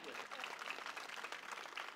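A crowd claps at a BJP election campaign rally in Sawantwadi, a steady, fairly faint patter of applause heard with a voice talking over it.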